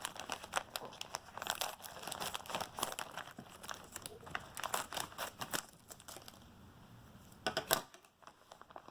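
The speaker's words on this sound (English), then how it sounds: "I decided to grab my scissors to get this open." Crinkly packaging rustles and tears in quick bursts as scissors cut it open, with short snipping sounds and crackles, close and fairly quiet, ending in a sharper rip.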